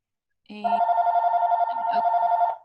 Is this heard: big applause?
no